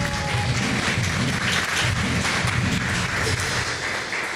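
A church congregation applauds together, with a dense, sustained clatter of many hands clapping at a steady level throughout.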